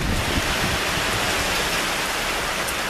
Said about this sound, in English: the storm is, like you can hear, it's very gusty and windy